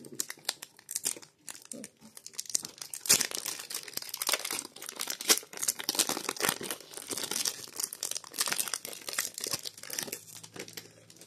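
Crinkly foil wrapper of a Pokémon card booster pack from the Aventure Ensemble set being torn open and handled, a continuous close run of crackling, crumpling and ripping bursts with no talking.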